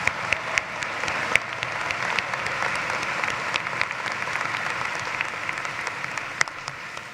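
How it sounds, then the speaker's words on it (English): An arena audience applauds business graduates at a commencement ceremony. The clapping is dense and sustained, fairly loud and evenly spread, with a few sharper claps popping out. "Let's give a round of applause for our supply chain management graduates."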